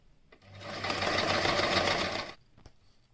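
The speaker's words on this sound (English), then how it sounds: "Take the fabric and sew a small pocket to put the wire in." A sewing machine runs in one steady burst of about two seconds, stitching a small fabric pocket for a nose wire on a homemade face mask, with quiet room sound before and after.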